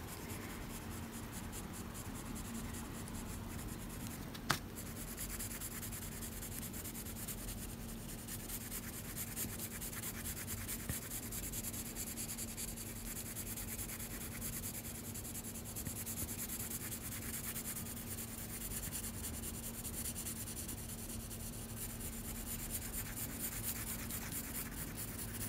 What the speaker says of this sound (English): use the darker B pencil for the darker areas of the skull